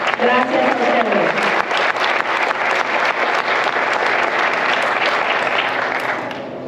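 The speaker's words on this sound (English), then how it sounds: "So please, a big round of applause for each one of them." Loud, dense applause from an audience at a recognition event for Latino community volunteers, continuous sustained clapping for several seconds with a faint voice near the start, easing slightly at the end.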